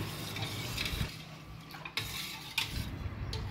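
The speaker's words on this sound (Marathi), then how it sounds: "हे मिश्रण छान ढवळून घ्यायचे आहे" A spoon stirring sugar, rock salt and cumin powder in a kitchen vessel, giving soft scraping swirls punctuated by a few sharp metallic clinks against the container, close and quiet with no talk.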